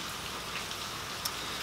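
Rain falling by a roadside where a C10 truck sits parked, a faint, even hiss of drops with a couple of slightly sharper patters.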